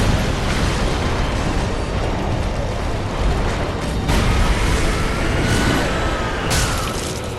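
Fire bomb explosions burst during a Dark Souls 3 boss fight, heard as a continuous loud rumbling roar of blasts and flames with a few sharper bursts layered on top.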